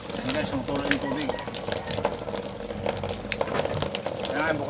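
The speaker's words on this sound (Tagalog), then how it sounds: "Yan guys, tumutulo yung tubig." Water flowing steadily from a pipe at a faucet being fitted despite a leak, a continuous broadband gush with splashy bursts running throughout, with faint talk mixed in.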